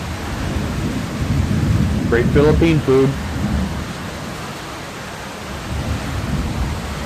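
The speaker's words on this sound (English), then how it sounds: "watch for the flashes, and then there's thunder" Thunderstorm with steady heavy rain hissing throughout and a low rumble of thunder swelling in the middle, while someone briefly speaks over it.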